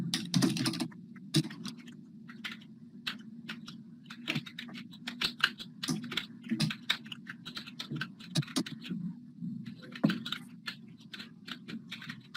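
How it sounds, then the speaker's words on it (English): Rapid computer keyboard typing clatters through a video call, key clicks arriving in uneven bursts with a faint echo layered over a steady low hum. "Is that my typing that I'm hearing as an echo?"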